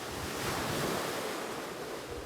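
Surf washes steadily onto a sandy beach at Laem Samila as baby sea turtles are released into the sea, a continuous loud roar of breaking waves with wind buffeting the microphone and no voices.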